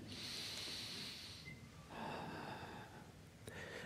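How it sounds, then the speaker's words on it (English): Slow, audible breaths drawn in and let out in a quiet room during a spiritual meditation, with two long airy breaths and the start of a third close by and no talking. "A breath."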